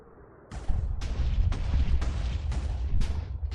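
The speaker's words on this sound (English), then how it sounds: "but I just started hearing explosions." Minecraft explosions go off in rapid succession, roughly six heavy booms about half a second apart, loud and close, each with a deep rumbling low end and a sharp crack at onset.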